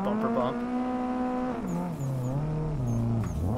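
A drift car in the Assetto Corsa racing game holds a loud, steady engine drone that rises and falls in pitch through the revs, with a few short pops near the end and no talk over it.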